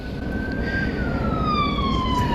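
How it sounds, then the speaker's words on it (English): Ambulance siren passing fast on a road near a repair shop, a loud wailing tone sliding steadily down in pitch as it goes by over constant traffic rumble, no talk. "That ambulance went by going like 100."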